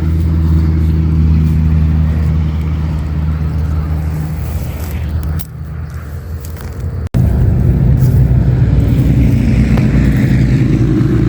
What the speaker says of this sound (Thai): เสียงรถมอเตอร์ไซค์